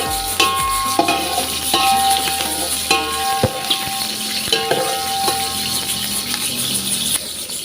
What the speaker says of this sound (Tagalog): Igigisa natin yung sibuyas. Yan. Hintayin natin na mag-brown ng konti yung ating sibuyas